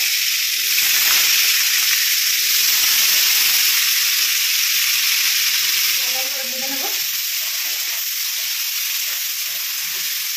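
Potatoes fry in hot mustard oil, a loud, close sizzle that hisses steadily, then quiets a little as they are stirred.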